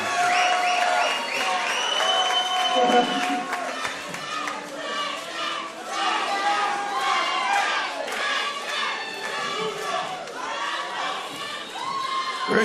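Loud crowd at a live MMA championship event, cheering, yelling and applauding for a newly crowned flyweight champion, a dense continuous roar of shouts and claps throughout.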